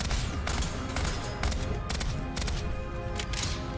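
Bursts of gunfire hit the player in Deadzone: Rogue, several rapid, loud volleys with short gaps between them over a steady game background.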